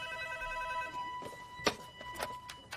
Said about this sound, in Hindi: तुम्हारे डैडी का फोन है।